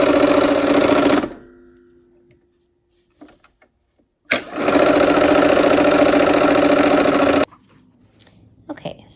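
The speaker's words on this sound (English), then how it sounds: "here we are at the machine, and we're doing a 1/4 inch seam allowance again." A sewing machine runs a quarter-inch seam on quilt pieces in two loud, steady bursts of close, buzzing stitching, each followed by quiet handling noises and a faint hum.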